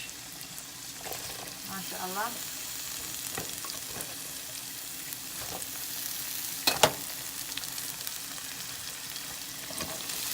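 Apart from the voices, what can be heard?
cabbage and vegetables frying in a pan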